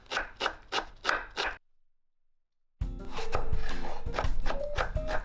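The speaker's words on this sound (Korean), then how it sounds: "하얀 양파를 잘게 썰어줄 텐데요" A knife finely chops white onion on a board, first in quick evenly spaced taps, then a pause, then busier scraping and knocking cuts.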